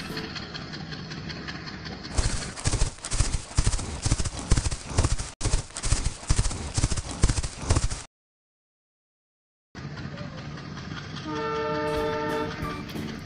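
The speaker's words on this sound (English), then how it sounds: "H for horse." Rapid horse hooves clip-clop steadily for several seconds, then a pause, followed by more clopping under a train horn-like tone.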